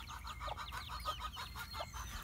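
A rooster penned with Silkie chickens, clucking in a steady run of short, overlapping calls over a low background rumble, with no talking.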